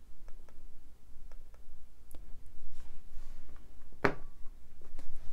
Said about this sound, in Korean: 지금 마우스 클릭 소리 들으셨나요?